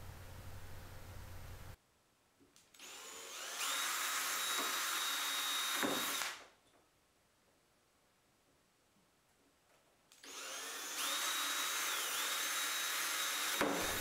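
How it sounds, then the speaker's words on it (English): An electric drill whines in two steady bursts of several seconds each, separated by a quiet pause, high-pitched and fairly close, drilling pilot holes while installing a hot rod door. "go ahead and drill your pilot holes in each hole except the striker hole"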